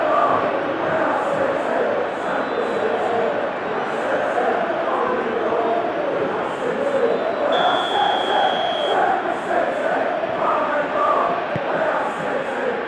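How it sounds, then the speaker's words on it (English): Stadium crowd in the PES 2021 football video game chanting and cheering continuously, a dense, loud roar of many voices, with a commentator talking over it. "Crowd doing their bit to back their team."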